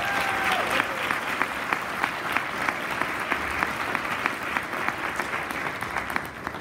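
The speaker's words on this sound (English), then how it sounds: "Go ahead and give them a round of applause." A college event audience applauds steadily, a dense wash of clapping with sharper individual claps popping through, sustained at full strength for several seconds.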